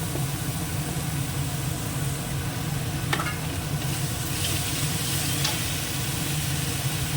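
Paste of onion, tomato, ginger, garlic and green chilli fries in a pan with a steady close sizzle and stirring, a low rumbling hum underneath and a couple of sharp scrapes, with no voices.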